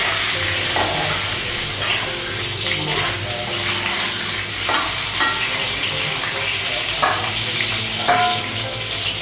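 Eggs frying in a pan in a home kitchen, with a steady close sizzle and occasional stirring scrapes throughout, alongside running-water noise and no talking.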